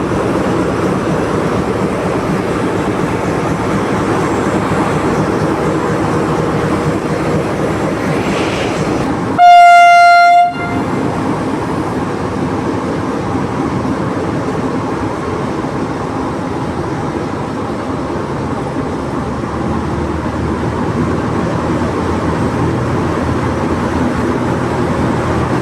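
Romanian regional train R 6403, Barlad to Iasi, pulls into Vaslui station with a steady rolling rumble, broken midway by one short, loud horn blast.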